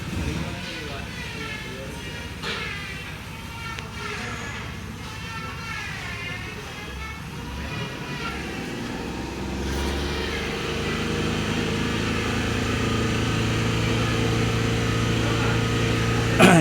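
A car with a misfiring engine is started and settles into a steady idle, the motor hum growing firmer toward the end, with someone talking over it for much of the time.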